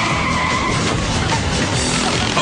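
Cars roar around the track in the Jonas 500 race, a loud continuous engine drone with tire noise that fills the whole moment without pause.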